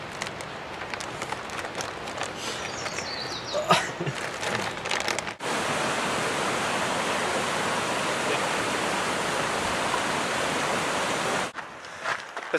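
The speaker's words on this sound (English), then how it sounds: "The trail's been following Bright Angel Creek for a little while now" Bright Angel Creek in the Grand Canyon rushes with a steady, broad hiss, loud and close for several seconds after some rustling and footsteps on the trail.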